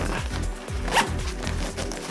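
A zipper is pulled repeatedly around a packing compression cube for carry-on travel, several quick rhythmic rasping strokes close up and fairly loud.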